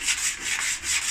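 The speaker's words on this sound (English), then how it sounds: "Starting to get things sanded down" Paintwork on a classic Mini roof is sanded by hand in brisk back-and-forth strokes, a close, steady, hissing rasp that rises and falls with each pass.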